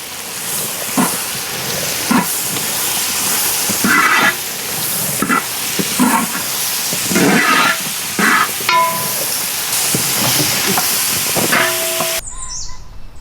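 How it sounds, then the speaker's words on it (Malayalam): Shallots and onions sauté in oil for a Kerala prawn roast curry, a steady close sizzle punctuated by repeated spatula scrapes and taps against the pan, ending abruptly. "ചെറിയുള്ളിയും വലിയുള്ളിയും നമുക്കിതിൽ വഴറ്റാൻ വേണ്ടി വെച്ചിട്ടുണ്ട് നല്ല ഗോൾഡൻ കളറാകുമ്പോൾ നമുക്കത് വഴറ്റിയെടുക്കാം"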